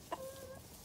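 Chicken hens in a pen give a brief cluck, a short, soft vocal burst followed by a faint drawn-out tone over steady low background noise.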